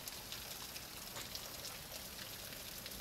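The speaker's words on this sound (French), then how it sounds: "Surtout un jour de pluie comme aujourd'hui" Steady rain patters softly, a faint, even hiss of drops falling without a break.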